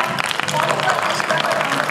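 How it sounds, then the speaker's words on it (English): An audience at an evening theatre, art and storytelling event claps in a dense, even burst of many hands, with some voices mixed in. "Come on, let's clap."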